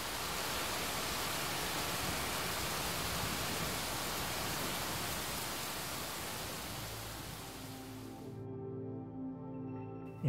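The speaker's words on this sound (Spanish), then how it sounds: "escuchas la lluvia, cómo choca contra la vegetación, contra la tierra" Heavy rain falls on the vegetation and soil around a house set among trees, a dense, even hiss that holds steady for about eight seconds, then cuts away to quiet low tones.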